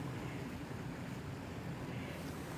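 Water washes and rolls in a soft, continuous wash, faint and steady with a low rumble and no distinct breaks, like gentle waves close by with some wind.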